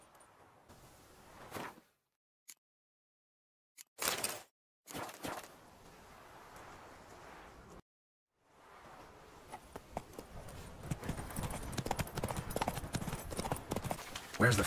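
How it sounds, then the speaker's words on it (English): Horse hooves clip-clop at a galloping pace in the video game The Witcher 3, rising and falling between silent gaps and growing louder and busier toward the end, with no talk. "Place it on your steed and ride swift as the wind."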